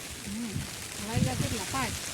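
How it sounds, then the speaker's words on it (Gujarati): Steady rain hisses throughout, with people talking over it nearby. "પાંચ વાગી ગયા વરસાદ રહેવાનું નામ નથી લેતો"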